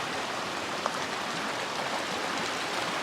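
Cow Creek along the Continental Divide Trail flows in a steady, close hiss of running water, even and uninterrupted, with no voices.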